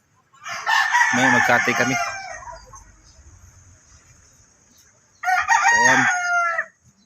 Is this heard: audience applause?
no